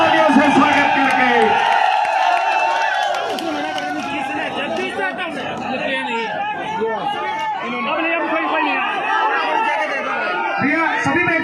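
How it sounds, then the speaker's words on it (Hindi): A large crowd at a political rally for Chandrashekhar Azad cheers, whoops and chatters continuously, a dense, loud roar of many voices with shouting throughout and no clear break. "सभी जोरदार तालियों से स्वागत करके"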